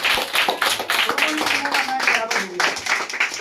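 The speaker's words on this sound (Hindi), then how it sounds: "ताली बजाइए, बहुत ही शानदार प्रदर्शन।" An audience claps hands after a scored classroom contest ends in a tie, giving a quick run of hand claps under continuous speech.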